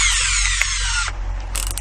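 Power drill fitted with a screw attachment whirring at high speed close by for about a second, then stopping with a brief ratcheting sound after it.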